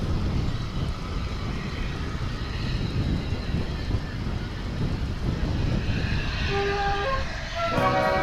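Wind buffets an outdoor microphone at Dallas/Fort Worth International Airport, a steady loud low rumble throughout with a faint tone appearing near the end.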